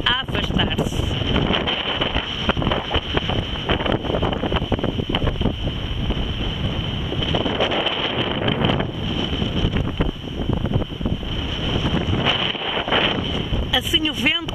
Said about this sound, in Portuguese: o vento que me refresca o rosto, me afasta os cabelos e me inspira a alma